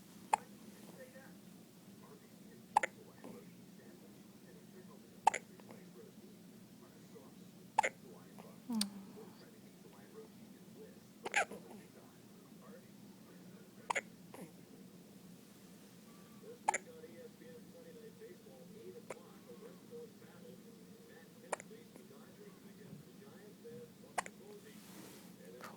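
A baby hiccups softly over and over, the small hiccups spaced evenly every couple of seconds in a quiet room, with faint background hiss between them.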